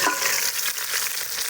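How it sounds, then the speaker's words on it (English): Food sizzles loudly and steadily in a camp oven over coals on a beach, a dense close crackle with no talking. "they're just sizzling away in there, doing their thing."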